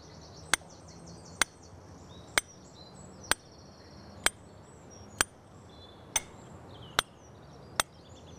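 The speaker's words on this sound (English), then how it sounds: "they got an hammer and some form of a drill, and then they proceeded to drill an hole in the rock" Sharp metallic strikes of a hammer on a hand drill boring into rock ring out one by one at a steady pace, about nine blows spaced just under a second apart, with quiet outdoor ambience between them.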